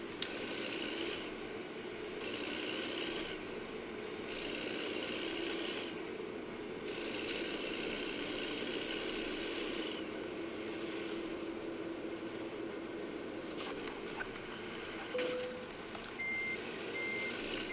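Truck engine drones steadily in a driving video game while evenly spaced reversing beeps repeat over it, fairly faint and steady, with some mechanical clanks later and no talking.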